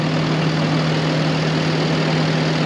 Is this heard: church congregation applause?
no